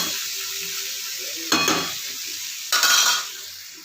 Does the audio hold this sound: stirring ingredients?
yes